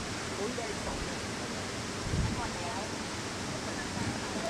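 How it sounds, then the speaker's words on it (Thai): Stream water pouring through a filter bag outdoors, a steady, even rush of flowing water with a faint splash partway through. "น้ำจากลำธารเนี่ยมันผ่านตัวกรองนะครับลงมาที่ข้างล่างเนี่ย"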